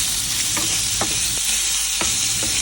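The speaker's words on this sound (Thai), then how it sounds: "ให้นำหมูที่เราเตรียมไว้นะครับลงไปผัดได้เลย ผัดจนเข้ากันกับกระเทียมให้หอมสุกนะครับ" Pork stir-frying with garlic in a hot pan, a steady loud sizzle with a few scraping strokes of the spatula, close and alone.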